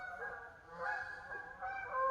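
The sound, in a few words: flock of geese honking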